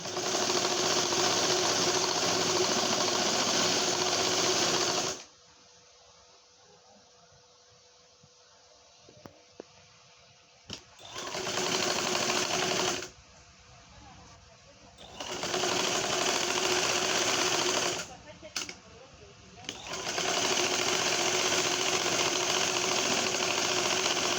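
Electric sewing machine stitching burqa fabric in loud, steady bursts, running about five seconds at a time and stopping between runs, with quiet pauses of faint handling noise.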